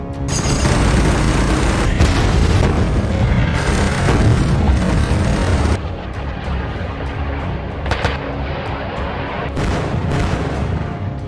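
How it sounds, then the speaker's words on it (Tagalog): Rapid series of loud explosions and booms from a film battle scene as attacking forces strike Taliban fighters. The blasts run dense and heavy at first, then thin to scattered cracks and bangs. "Nang biglang makarinig sila ng sunod-sunod na pagsabog"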